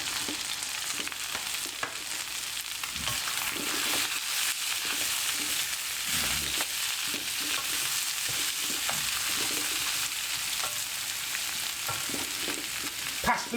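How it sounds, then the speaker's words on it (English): Peppers, mushrooms and spring onion fry in a pan, a steady bright sizzle with occasional soft scrapes and stirring bumps, close and continuous with no talking. "Now this one I'm going to add all my vegetables, peppers, mushrooms."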